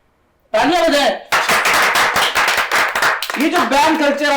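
Audience clapping on a television talk show, a loud burst of applause lasting about two seconds, with a voice speaking just before it and again right after.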